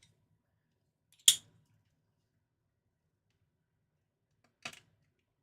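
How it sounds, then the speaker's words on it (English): Two sharp scissor snips trimming material while building an LED light box for a boom box, the first crisp and louder, the second softer a few seconds later, with near silence between them. "I have to do a little trimming."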